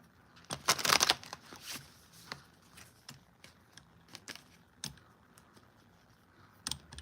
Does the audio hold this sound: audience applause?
no